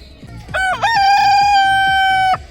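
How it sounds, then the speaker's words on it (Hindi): A rooster in Kaifeng, China, gives one long, loud cock-a-doodle-doo close by. Softer clucks and fowl sounds come before it. "तो यहाँ पर सारे मुर्गे अपनी अजान में मसरूफ़ हैं"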